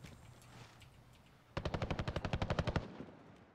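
A rapid burst of automatic gunfire in a battle royale video game, about a dozen evenly spaced shots in quick succession after low background ambience.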